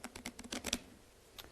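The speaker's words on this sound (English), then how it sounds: "You're going to riffle shuffle the cards together" A deck of playing cards is riffle shuffled close by, giving a quick run of crisp, clattering card snaps over about three quarters of a second, then a single brief snap after a pause.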